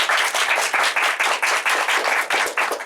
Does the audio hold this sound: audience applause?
yes